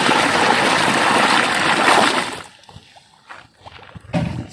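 A strong river current rushes in a broad, loud wash for about two seconds, then drops to quieter trickles and splashes with a short surge at the end.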